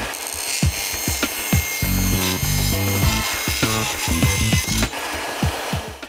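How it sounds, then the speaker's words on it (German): A jigsaw cuts through a laminate floor plank, its rapid rasping strokes loud and close, with short bursts of rhythmic sawing and brief pauses between passes, and no talking. "dann wird die Planke ganz einfach mit Hilfe von der Stichsäge oder Tischkreissäge gekürzt."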